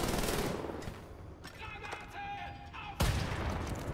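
Gunfire in the shooter video game Wolfenstein: The New Order: dense, loud bursts of automatic shots open the clip, ease into a quieter stretch with tonal game sounds, then a sharp blast leads into more heavy firing.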